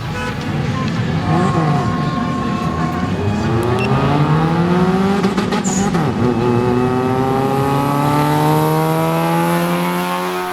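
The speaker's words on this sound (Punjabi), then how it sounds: "ਪਹਿਲੀ ਗੱਡੀ ਰੇਸ ਕਰਨ ਲਈ ਨਿਕਲੀ ਤੇ ਉਹਦੇ ਇੰਜਨ ਦੀ ਆਵਾਜ਼ ਸੁਣ ਕੇ ਹੀ ਬੜਾ ਮਜ਼ਾ ਆ ਗਿਆ" A rally car at the Cholistan Rally accelerates hard, its loud engine note climbing and shifting through rising, sweeping harmonics as it pulls away, with crowd chatter underneath.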